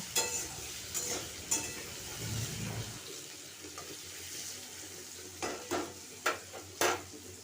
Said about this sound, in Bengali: সাথে আমি স্বাদ মতো নুন হলুদ দিয়ে দিলাম এরপর এটাকে ভালো করে মিশিয়ে আমি ঢেকে আমি ভাজতে দেবো